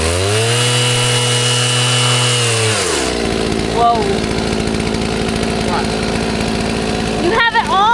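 A farm chainsaw idles loudly nearby at first, then its steady buzzing drone drops to a rougher, lower running tone as people speak over it.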